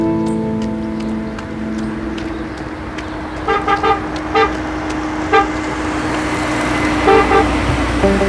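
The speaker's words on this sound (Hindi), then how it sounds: "तुम बार बार हॉर्न क्यों बजा रहे हो?" A car horn honks repeatedly in short bursts, several toots close together and then a few more, over a low hum of traffic.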